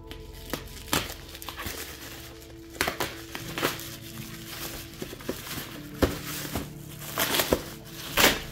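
Tape and bubble wrap packaging being pulled off a boxed model: irregular crinkling, crackling and rustling with sharp tearing bursts at close range, and no voices.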